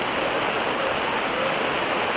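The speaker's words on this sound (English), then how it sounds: "when you start to get the really heavy rains, it really doesn't matter how solid your drainage system is" Heavy rain pouring down outdoors at a school football game, a dense, constant roar of rain on surfaces, loud and unbroken with no talking.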